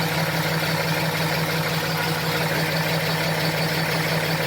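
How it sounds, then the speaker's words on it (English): A truck sits at high idle with its FASS fuel pump running, giving a steady, close, even engine drone with a constant low hum and no talk. "You can just hear it. You just hear the normal pump noise."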